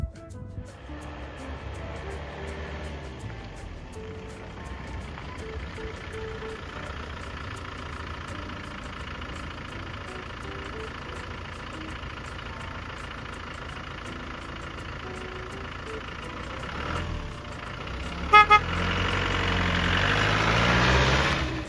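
A 1997 Land Rover Defender 90 with a 300Tdi diesel engine idles steadily and close, a continuous low rumble with a slight knock, briefly rising near the end and joined by a clunk.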